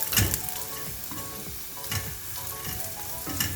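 Okra stew masala with turmeric and coriander powder fries in a pan while a spoon stirs it, a continuous moderate sizzle with soft scraping strokes recurring throughout.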